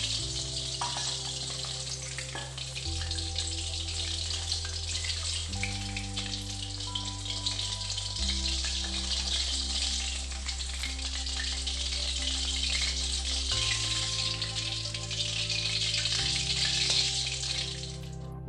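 Chicken Manchurian frying in a pan, a loud, dense and continuous sizzle heard up close for the whole stretch, with no talking over it.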